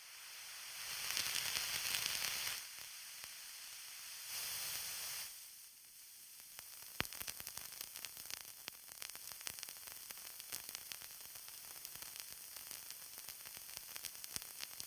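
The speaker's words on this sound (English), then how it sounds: "Micro-Hadron Collider can also produce such wonderful clicks and pops from noise." White noise from a Micro-Hadron Collider synth, broadband static swelling in two short bursts, then turning into dense, crackly clicks and pops that run steadily for the rest of the stretch at moderate level.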